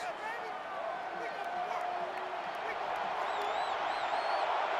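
Roaring stadium crowd in the NCAA 14 college football game, a constant loud wash of cheering with scattered whistles and whoops, steady throughout.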